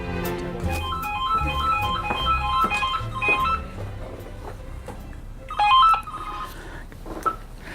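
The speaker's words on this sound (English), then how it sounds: "A 5-star booking must include answering the phone within 5 rings" A hotel telephone rings in repeated electronic bursts with a melodic ringtone pattern, fairly close and clear, with a brief louder burst near the end and no talking.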